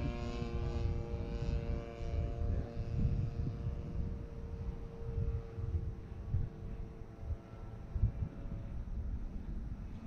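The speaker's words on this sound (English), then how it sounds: "Right now with it kind of spitting and sputtering, I think it kind of sounds like a real 1917 airplanes." A 26cc petrol engine on a model Beechcraft Staggerwing airplane drones at a distance, its rough, uneven buzz sputtering and fluctuating without stopping.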